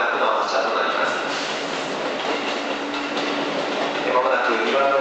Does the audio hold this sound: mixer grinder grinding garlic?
no